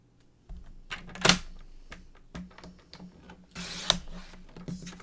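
Card paper being cut to 5 inches on a paper trimmer, heard as close, faint mechanical clicks and taps with two short slicing swishes, one early and one later.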